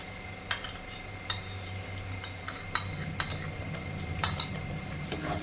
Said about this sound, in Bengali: টক দই দেওয়ার সঙ্গে সঙ্গে নাড়াতে হবে নাহলে দইটা ফেটে যাবে